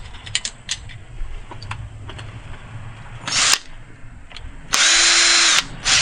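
A power drill pre-drills pilot holes in wood for a security plate, heard as a short burst of whirring followed by a longer, louder sustained run, with tool handling clicks around them.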